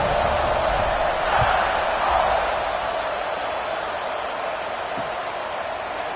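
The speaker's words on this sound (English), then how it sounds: "this crowd is buzzing after that last score" Stadium crowd noise in the College Football 26 video game, a steady broad roar from a large audience that stays constant and fairly loud throughout, with no distinct cheers standing out.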